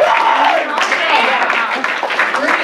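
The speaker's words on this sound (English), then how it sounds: "Give yourselves a round of applause." Audience at a live comedy show applauding: a steady wash of clapping and crowd noise from a room full of people, with some voices mixed in throughout.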